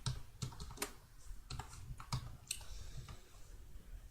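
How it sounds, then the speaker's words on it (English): Numbers are keyed into an Excel cell on a computer keyboard, producing a steady run of close, clicky keystrokes with a few heavier taps over a constant low background hum and no speech. "if I type any number here"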